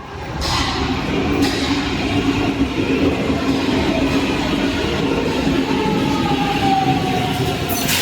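Lisbon metro train heard from the station, a steady, loud rumble of rail cars running continuously with a faint squeal of wheels near the end.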